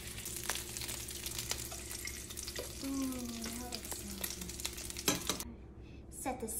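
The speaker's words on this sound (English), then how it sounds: "So we're gonna move the oil around the pan." Oil being swirled around a frying pan while cooking Cajun salmon, giving a quiet, steady sizzle with light clinks and scraping over about six seconds, close by and without talk.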